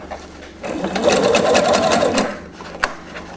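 A sewing machine runs steadily for about two seconds, stitching rows of shirring with elastic thread after a few back stitches, then stops with a small click; close and moderately loud, no talk.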